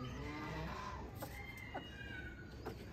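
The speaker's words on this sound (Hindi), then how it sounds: "बस एक सील मुर्गी हमारी बाहर है, इसे भी अंदर कर दो श्री।" A chicken clucks outdoors at a backyard pet cage, soft scattered clucks and short calls repeating over steady background noise, fairly distant and faint with no talk.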